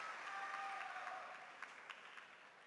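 Crowd applause at a professional table tennis match between Fegerl of Austria and Zhang Jike, a broad steady wash of clapping from the arena stands, with no talk.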